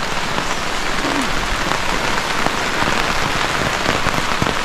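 Heavy rain pours onto a Kilimanjaro hexagonal tent flysheet, a loud, even, dense hiss of drops hitting taut fabric with no voices.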